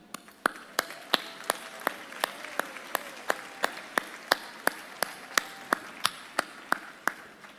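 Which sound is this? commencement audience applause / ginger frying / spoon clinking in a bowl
commencement audience applause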